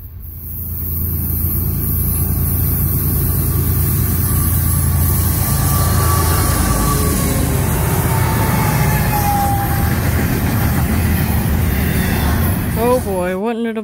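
A heavy Brightline passenger train with locomotives rumbles steadily past close by, a low continuous roar of engines and wheels, with a horn-like tone sliding near the end.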